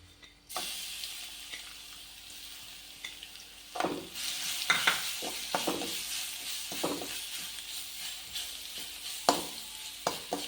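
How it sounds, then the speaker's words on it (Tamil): Ground masala for aval thattai sizzling and frying in a pan, with steady hiss and intermittent stirring scrapes and clatters, close and moderately loud, no talking. "அரைச்ச மசாலாவை போட்டுக்கலாம்."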